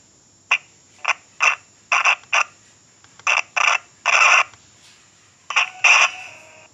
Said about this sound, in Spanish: Ese ruido que se oye son las ruedas